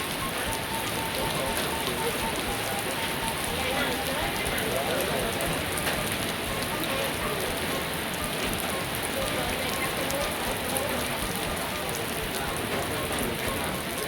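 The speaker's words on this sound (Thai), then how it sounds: "ฝนตกฝ่าบ่ดัง" Heavy rain pours down on a village in Savannakhet, Laos, a dense, constant patter drumming on surfaces at an even loudness throughout, with occasional faint voices beneath it.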